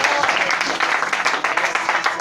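A church congregation applauds, steady dense clapping at fairly loud level that fills the whole moment without a break.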